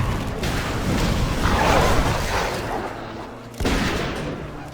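A cannon fires in a video game battle against Bloodfang Stalkers, with a dense, roaring boom that rumbles for seconds before a second sharp blast hits, loud and close.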